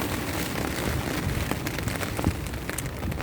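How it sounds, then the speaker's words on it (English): Steady rain falls outdoors during a February storm, a dense continuous patter of drops hitting surfaces at fairly even loudness, with a few slightly sharper splashes standing out near the middle. "It's rainy out here."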